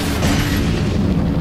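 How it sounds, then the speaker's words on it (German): A rocket launcher explosion in Resident Evil 4 produces one continuous loud, deep boom and rumble with no talk over it. "Packt mal schnell den Raketenwerfer aus."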